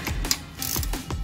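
A ratchet wrench tightens a 12mm bolt on the detent springs of an Integra being prepped for the track. It gives several quick bursts of close, crisp metallic clicking with short pauses between them.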